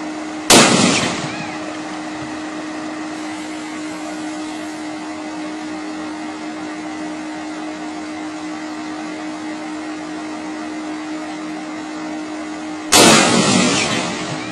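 A power line explodes and blows a fuse, two loud sharp bangs about twelve seconds apart with a steady electrical hum droning between them.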